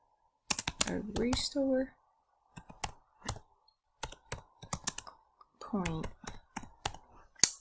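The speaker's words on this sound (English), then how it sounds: "We're going to type create" Clicky computer keyboard typing in short bursts of keystrokes, near and fairly quiet, with a voice talking softly over parts of it.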